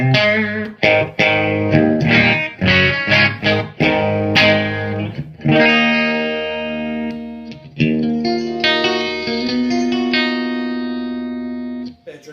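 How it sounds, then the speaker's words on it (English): Dry electric guitar with no effects, starting with choppy, heavily palm-muted riffing and stabbed chords, then moving into ringing sustained notes and a held phrase, all up close and alone. "I'm just going to play a little bit of guitar with just the dry sound"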